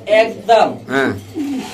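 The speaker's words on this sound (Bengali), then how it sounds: "এখানে আছে আরেক পিস কবুতর, আপনি দেখতেই পাচ্ছেন" A pigeon coos close by in four short, throaty calls, evenly spaced.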